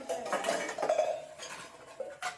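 Dishes and utensils being scrubbed and washed by hand at home, with steel pots and cutlery clinking and scraping in quick, close bursts throughout, no talking.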